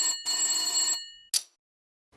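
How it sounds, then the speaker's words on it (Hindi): Telephone bell ringing in a Chacha Chaudhary comic cartoon scene, an inspector calling: a bright electric ring burst of about a second, a pause, then a short clipped second ring, no talk over it. "मैं उनको टेलीफोन करता हूं।"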